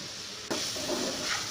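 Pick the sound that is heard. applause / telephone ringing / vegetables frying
vegetables frying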